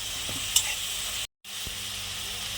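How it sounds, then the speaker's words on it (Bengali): Onion frying in white oil, a soft continuous sizzle heard fairly faint and close, with a brief stir and a short gap of silence midway; no voices. "তো এবার আমি পেঁয়াজটা একটু ভাজা ভাজা করে নেবো তারপর রসুনটা দেবো"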